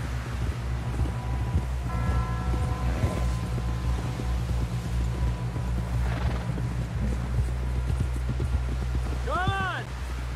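Horse hooves clip-clop at a steady walking pace in Red Dead Redemption 2, laid under a constant outdoor ambience bed with brief tonal effects and a faint voice toward the end.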